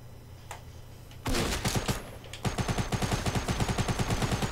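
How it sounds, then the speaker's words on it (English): A shotgun firing in an online solo battle-royale style video game, a single loud blast at about 1.3 seconds followed by a rapid run of sharp repeated shots close by, with lag-like stutter in the game audio. "Damn! Shotgun."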